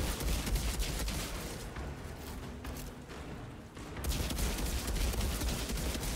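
Rapid gunfire in the video game Outriders during a hardest-difficulty endgame raid, a dense continuous barrage of shots and impacts that eases briefly mid-clip and then surges back at full loudness.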